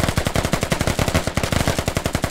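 Automatic gunfire rattles during a firefight in the military shooter game Squad: a rapid, close, loud burst of evenly spaced shots running almost continuously, with a brief pause midway.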